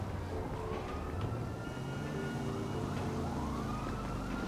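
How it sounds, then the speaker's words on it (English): Police sirens wail continuously in the GTA 5 street world, steady and moderately near, with rising and falling tones over a low rumble of traffic and engine noise. "There's sirens."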